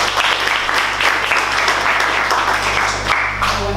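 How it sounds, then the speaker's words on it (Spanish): Steady, dense applause from an audience at a cultural association's women's assembly, continuous clapping throughout with a low hum underneath and no pauses. "Vamos a recibirla con un fuerte aplauso"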